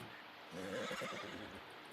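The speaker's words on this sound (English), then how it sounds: "Sounds like a nice horse." A Dutch warmblood horse in Red Dead Redemption 2 gives a loud, wavering whinny that rises and trails off over about a second, set against a steady background hiss.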